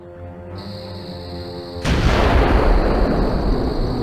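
Gunfire in an Agatha Christie video game erupts as a sudden loud burst after a sustained tone, then continues as a dense, rumbling barrage.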